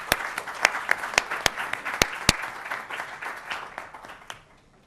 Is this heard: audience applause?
yes